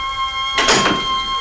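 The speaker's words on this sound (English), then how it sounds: "I put this ordinary dog into this chamber and close the door" A cartoon door slams shut on an animal-conversion chamber holding a dog, giving one broad, solid thunk that rings out briefly over a faint steady hum, with no talking.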